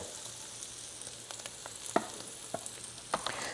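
Sausage with a light dusting of flour sizzles quietly and steadily in a pan, with soft scattered pops and crackles over the low hiss.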